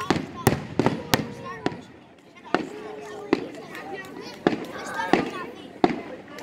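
Independence Day fireworks bursting outdoors in a run of sharp, loud cracks, several close together and others spaced out, while people talk and exclaim nearby.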